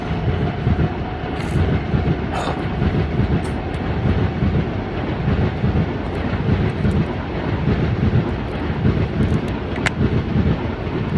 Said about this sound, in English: Long ass train, goddamn.